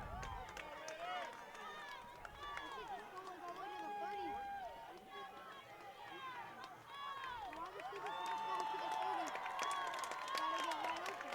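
Crowd noise at a high school football game, a steady roar of spectators that swells louder near the end, heard under an announcer's play-by-play commentary.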